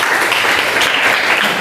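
Classroom of students clapping for a classmate after a good answer in a lesson on managing emotions; loud, close, continuous applause throughout the short stretch.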